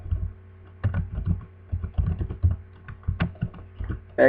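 Typing on a computer keyboard while writing HTML and CSS code: uneven bursts of quick, close keystroke clicks over several seconds, with a brief loud clatter at the end and no voice.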